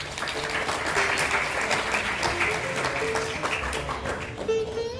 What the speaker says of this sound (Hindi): बहुत सारिया तालियां